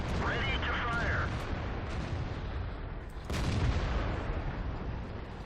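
A tank destroyer's cannon fires in World of Tanks, the heavy booming shot landing in a dense wash of battle noise, with a second loud blast partway through.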